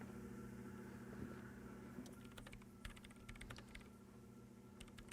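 Keyboard typing in the video game Disco Elysium: irregular runs of quick, crisp key clicks that start after a pause and continue over a steady low machine hum.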